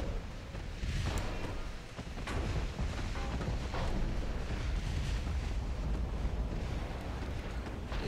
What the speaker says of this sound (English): Our 5-inchers are starting to engage, and our torpedoes just fired.